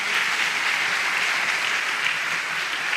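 A church congregation applauds during a homily, giving a steady, uniform roar of clapping from many people that neither swells nor fades.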